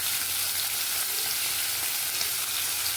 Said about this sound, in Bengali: আর এদিকে তেল গরম হয়ে গেছে, মাছ ছেড়ে দিচ্ছি।